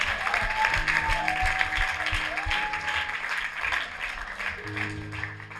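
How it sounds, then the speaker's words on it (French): Church congregation clapping and cheering in praise of the Lord Jesus, dense continuous applause from a crowd with a few whoops rising above it and music or organ tones underneath, loud and sustained. "Acclame le Seigneur Jésus."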